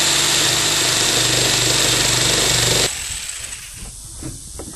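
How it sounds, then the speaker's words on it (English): A power tool saws through the thick top of a plastic 55-gallon drum with a loud, buzzing, rattling whine that runs steadily, then abruptly cuts off, leaving quieter rustling handling sounds. "I'm going to cut the top off of it."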